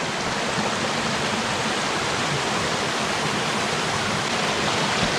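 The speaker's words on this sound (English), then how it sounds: "I should make a whole video just about watching water flow." A forest stream flows steadily through woods along back roads on a hot day, its broadband rushing and babbling close to the microphone and unbroken throughout, with no voices over it.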